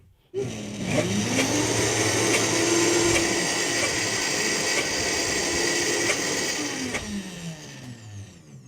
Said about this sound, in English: we're just going to give it one more little whir on the Vitamix here